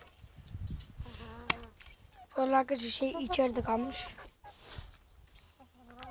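Chickens cluck and squawk in a burst mid-clip, fairly close, with a person speaking before and around the calls.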